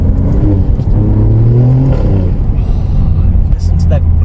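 Alfa Romeo Giulia Quadrifoglio with its 2.9 liter twin-turbo engine revving hard from inside the car with the window down, a loud rising and falling engine roar lasting several seconds, with someone talking over it.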